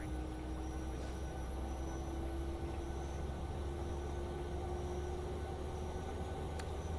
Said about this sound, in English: The jet plus the wind noise blends in so perfectly